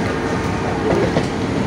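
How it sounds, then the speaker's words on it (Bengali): Howrah Chord line suburban local train running out of Howrah, a loud, close steady rumble of wheels on rails with faint rhythmic clacking throughout. "9:35 ট্রেনটা ছাড়লো।"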